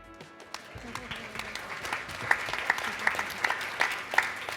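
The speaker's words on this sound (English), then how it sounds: "we started with a good round of applause for this accomplishment" An audience at a youth forum applauds in a steady wash of clapping, moderately close, with a few distinct sharper claps standing out over the crowd; a voice is briefly heard under it.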